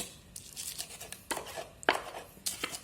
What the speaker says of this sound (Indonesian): Yang pertama itu adalah 10 siung bawang merah. Nah, ini kita haluskan dulu.